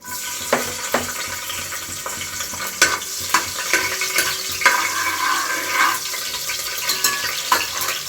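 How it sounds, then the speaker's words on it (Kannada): Chopped green chillies fry in hot oil in a cooker, giving a steady close sizzle broken by repeated sharp taps and scrapes of a spoon. "ಇವಾಗ ಎಣ್ಣೆ ಕಂಪ್ಲೀಟಾಗಿ ಕಾದಿದೆ ಹಸಿರು ಮಿರ್ಚಿಗೆ ಕಟ್ ಮಾಡಿ ಇಟ್ಕೊಂಡ್ವಲ್ಲ ಅದನ್ನ ಸೇರಿಸ್ಕೊತಾ ಇದ್ದೀನಿ"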